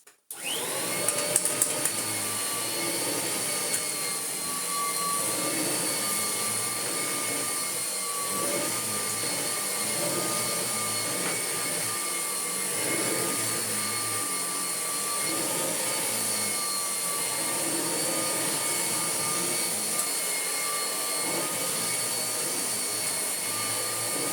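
A Kirby Heritage 1 vacuum cleaner runs close by as it cleans a rug, giving a loud, steady whine and roar that holds without a break the whole time, with no talk.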